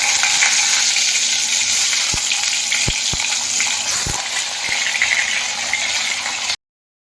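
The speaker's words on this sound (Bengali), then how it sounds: "এবার আমি পটলগুলো ভেজে নিচ্ছি।" Pointed gourd (potol) pieces fry in hot oil in a wok, a steady loud sizzle with occasional sharp clinks and taps, close up and without talk, cutting off abruptly near the end.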